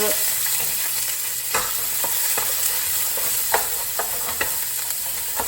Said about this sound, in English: So we just gonna fry this